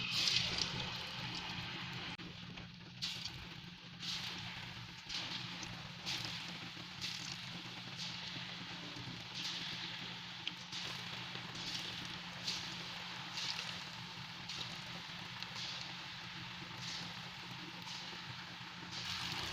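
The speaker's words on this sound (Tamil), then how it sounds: "இப்போ நம்ம இதில் உருளைக்கிழங்கு ஒவ்வொன்றா எண்ணெயில் சேர்த்திக்கலாம்" Potato pieces fry in hot oil over low heat, a continuous soft sizzle and crackle with scattered bubbling pops, steady and close throughout.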